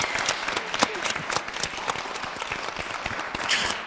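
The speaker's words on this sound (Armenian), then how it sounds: "եկեք ծափարենք" Audience applause at an Armenian evening show, a dense steady clapping from a full crowd lasting the whole stretch, fairly loud and close with no talking over it.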